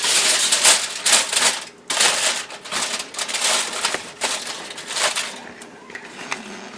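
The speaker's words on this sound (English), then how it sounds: "I'm going to just form a little foil holder here to give it a little support" Aluminium foil gets crumpled and shaped by hand into a small holder for bananas at a grill, giving loud, close, irregular crinkling bursts that come and go, easing off toward the end.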